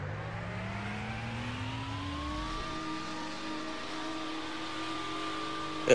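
A widebody Dodge Charger Redeye races in a Roblox game, its engine note climbing steadily through rising gear tones as it accelerates under a constant whine, with a short sharp blip at the very end.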